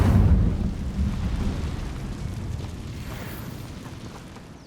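Incendio fire spell cast in the video game Hogwarts Legacy, a loud deep whooshing rumble that hits hard at the start and then rolls away and fades over several seconds, with no voices.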